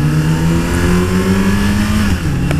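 A Triumph Street Triple 765R motorcycle engine pulls hard under acceleration, a loud, close, rising howl that dips briefly near the end as it shifts before climbing again, with no voices.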